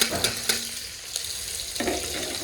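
Onion and garlic frying in a pan for aloo methi sabji, a steady close sizzle broken by a few sharp stirring scrapes against the pan, with no talk.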